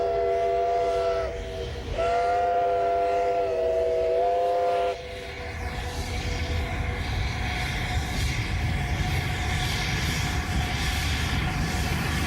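LNER Peppercorn class A2 steam locomotive 60532 Blue Peter sounds its whistle, a loud chime-like tone in two blasts lasting several seconds, followed by heavy rumbling and chuffing of the moving train.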